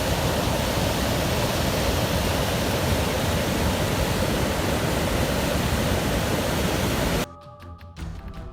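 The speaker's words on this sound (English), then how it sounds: "Volcanic debris swept through the Rabaca Dry River after La Soufriere erupted" A steady, loud roar of rushing water and volcanic debris surges continuously down the Rabaca Dry River after the La Soufriere eruption, then drops abruptly to quieter rumbling near the end.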